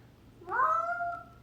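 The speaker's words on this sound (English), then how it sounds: "That's my cat." A single clear cat meow, rising then drawn out and fading, close by in a quiet room.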